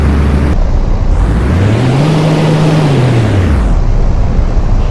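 An airplane engine sound effect plays in Unity, a steady loud drone whose pitch rises and then falls back in a smooth arc, heard alone.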